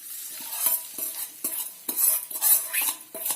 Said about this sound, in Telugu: తర్వాత దీన్ని ఒకసారి కలపండి